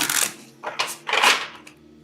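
Tarot cards riffled and shuffled in three quick papery bursts, close and fairly soft, with short pauses between them and no talking.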